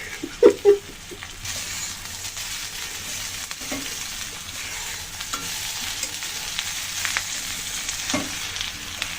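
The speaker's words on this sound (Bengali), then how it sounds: "ডাল দিয়ে মশলা দিয়ে সুন্দর করে একটু কষিয়ে নিলাম" Dal with green chillies and spices frying in a pan, a continuous close sizzle with occasional stirring scrapes and clatters of the spoon, louder knocks near the start.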